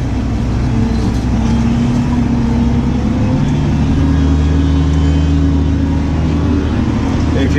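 A tractor pulling a plough drives straight out onto grass while ploughing headlands, its engine a steady, loud, close low drone with a constant rumble throughout and no pauses.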